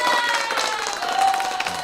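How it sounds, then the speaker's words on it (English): Piped-in crowd noise for a home opener plays loud and dense throughout, a steady wash of cheering and clapping with a few whistle-like tones rising above it. "Pipe in the crowd noise."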